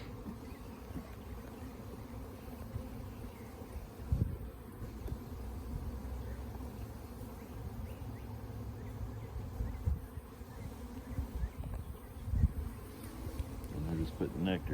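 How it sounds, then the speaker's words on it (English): Honey bees hum in a strong spring beehive during an inspection, a continuous close buzzing drone with occasional bees zipping near and light handling knocks. "There's a lot of bees in this one."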